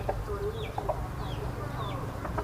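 Small chickens being fed cluck in short, soft bursts over a steady low rumble, with faint chirpy calls scattered through the background.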